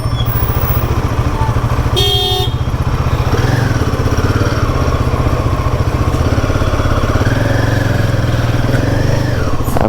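A motorcycle rides through heavy city traffic with a loud, steady engine drone close by, a brief horn honk early on and other vehicles rumbling around it.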